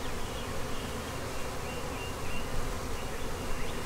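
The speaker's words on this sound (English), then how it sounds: "A lot of bees." Dense buzzing of many honeybees during a hive inspection, a constant loud swarm hum that fills the space without pause.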